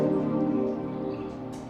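A synth pad run through a Big Sky reverb pedal, a sustained moody drone with dense low-mid harmonics and a smeared reverb tail, steady and fairly loud with no talking.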